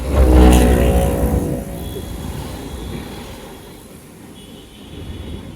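A car pulls away from a standstill in first gear on a main road, its engine swelling in a loud low rumble that eases into a steady drone, with a voice speaking over it.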